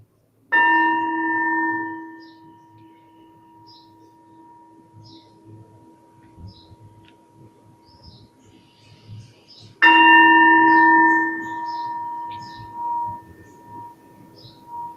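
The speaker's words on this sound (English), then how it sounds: "we'll do this with the gong" A gong struck twice during a guided breathing meditation at a Sunday Easter service, each stroke ringing out loud and full before decaying slowly over several seconds, the second about nine seconds after the first, with faint room murmur between.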